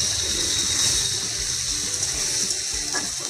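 Water poured into a pan of fried potatoes to make a curry gravy, a loud rushing gush with bubbling sizzle, close and continuous for a few seconds.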